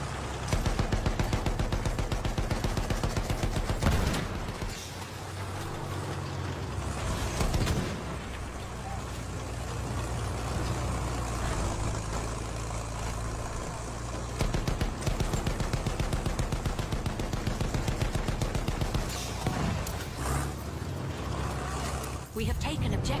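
Loud, sustained gunfire from a shooting video game, with rapid bursts of automatic fire and explosions running almost continuously over the game's mix, with brief lulls.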